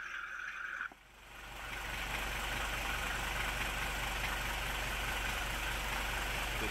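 A Mercedes W460 300GD's OM617 diesel engine idles with a steady low rumble after a brief pause near the start, running evenly and close by.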